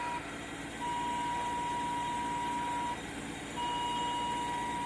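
A steady electronic tone beeps in long sustained stretches with short gaps, over a low engine hum, fairly faint, inside a Mercedes C140 during ignition repair.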